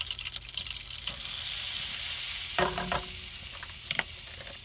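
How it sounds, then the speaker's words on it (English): Flour gets stirred into melted butter in a pan to make a roux: a continuous soft sizzle with scraping stir strokes and a few sharper clinks near the end, close up, no talking. "After that butter gets melted, you want to add 2 tablespoons of flour. You're making a roux."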